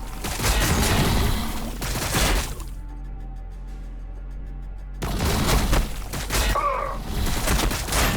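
Heavy crackling volleys of gunfire in the Warhammer 40,000: Battlesector strategy game, loud and sustained, cutting to near silence for a couple of seconds before the barrage resumes with sharp cracks.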